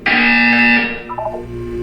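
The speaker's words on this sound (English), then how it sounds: "When you hear the buzzer, look up at the ceiling." A loud electronic buzzer in the Portal 2 video game sounds once, a harsh sustained tone lasting under a second that cuts off and leaves a faint fading tail.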